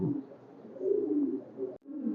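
Throaty cooing from a pair of red-necked highflyer pigeons at a pigeon farm, a steady run of low warbling coos close by, briefly broken near the end before resuming.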